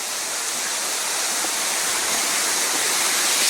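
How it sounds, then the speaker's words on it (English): Creek flowing beneath a railway trestle on the E&N line near Alberni Summit and Cameron Lake, a steady broadband rush of water, close and continuous without any voices. "It's a creek."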